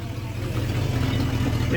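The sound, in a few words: truck V8 engine idling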